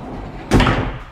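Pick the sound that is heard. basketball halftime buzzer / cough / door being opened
door being opened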